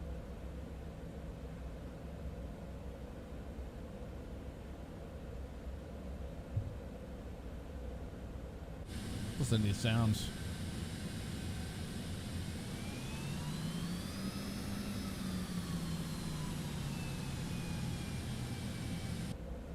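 A Citation X auxiliary power unit spools up in Microsoft Flight Simulator 2024, a steady rising whine and roar that swells after a brief clunk and holds loud and continuous, with a quiet spoken line early on.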